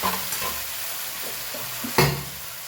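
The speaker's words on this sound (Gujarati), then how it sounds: "ટામેટાને ખવા દઈએ." Chopped tomatoes for pav bhaji cook in a hot pan, a steady close sizzle with scraping stirs and a sharp clatter of the utensil about two seconds in.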